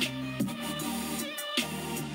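Future bass electronic dance music with punchy beats, lush synth chords and pitch-bending lead sounds, briefly dropping out before the groove returns, fairly quiet.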